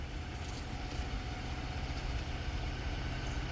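A 2024 Ford Bronco engine idling, a steady low rumble with even vibration and no change in pitch, close and moderately loud, with no talk.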